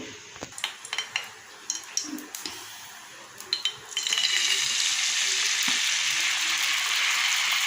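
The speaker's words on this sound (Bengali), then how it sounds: "এবেলা ডিমটা ভাজছি" An egg fries in a pan in a home kitchen. Scattered clinks and scraping of utensils come first, then a loud, even sizzle takes over and holds steady to the end.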